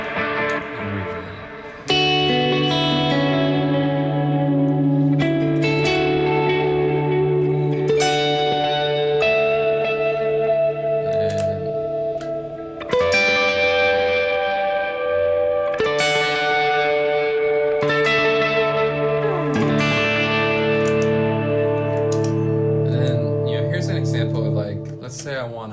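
Electric guitar played through a Strymon Timeline delay and a reverb pedal on a pedalboard, sustained chords ringing out with long echoing repeats and a wash of reverb, several strums spaced seconds apart.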